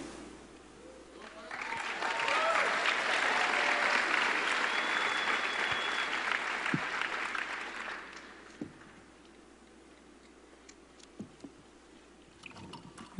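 A crowd applauds at MineCon Live, a gaming convention. The clapping is dense and steady for several seconds, then thins out and gives way to room noise with a few scattered claps and murmurs.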